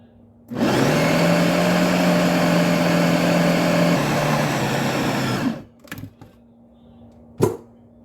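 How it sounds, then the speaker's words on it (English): A kitchen machine mixes pie dough with vanilla and two egg yolks into a coarse meal, running in one loud, steady whirring burst for about five seconds before stopping, followed by a few faint clatters. "Just mix that, it's going to be noisy, until it comes to a nice coarse meal"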